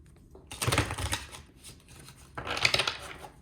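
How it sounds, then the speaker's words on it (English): Two bursts of papery tarot card shuffling, separated by a short pause, close and moderately loud with no voices. "I'm just going to shuffle the cards."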